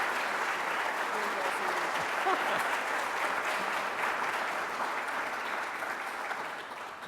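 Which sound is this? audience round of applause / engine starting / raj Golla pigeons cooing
audience round of applause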